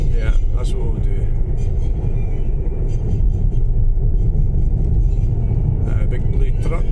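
A big truck passes on a road during storm winds in Stirling, Scotland: a heavy, loud low rumble sustained close by, with wind buffeting and crackle on top and brief higher whooshes near the start and end.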